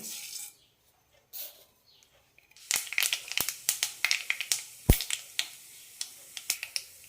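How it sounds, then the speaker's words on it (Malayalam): Mustard seeds spluttering in a tablespoon of hot oil in a pan, a burst of sharp irregular pops and crackles that grows denser after a quiet start, close and crisp. "പാനിലേക്ക് ഒരു ടേബിൾ സ്പൂൺ എണ്ണ വെച്ചിട്ടുണ്ട് ഇതിലേക്ക് കടുകിടാം"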